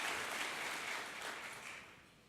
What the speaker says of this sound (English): a round of applause for all of our recognized council and committee